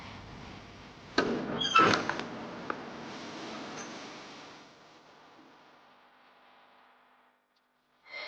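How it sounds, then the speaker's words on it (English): A door opens with a short burst of clattering and scraping, then a low rumble fades away into near silence before a faint knock at the end. "When the door opened"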